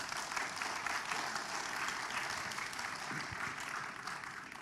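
Faint, steady applause from a crowd at a political talk, a dense even patter of many hands, heard from a distance and lasting throughout.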